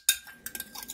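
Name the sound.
stirring mixture for Turkish bread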